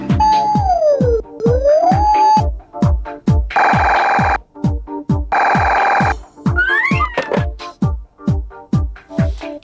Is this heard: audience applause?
no